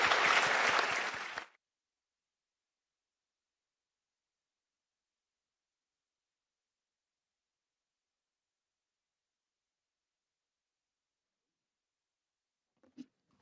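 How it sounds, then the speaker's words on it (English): A brief burst of audience applause for a panel at a summit, loud and close for about a second and a half before cutting off into silence, followed by a faint knock near the end. "can we have a round of applause, please?"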